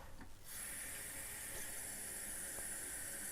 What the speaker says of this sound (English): We'll just put plain water in for this test.